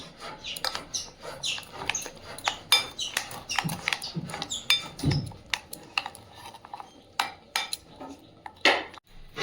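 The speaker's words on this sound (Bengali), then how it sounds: "ফ্রাই প্যানটা চাপিয়ে দিয়েছি" A frying pan set on a stove among kitchen utensils brings a fast, irregular series of sharp metallic clinks and clatters, close and fairly loud, with no talk.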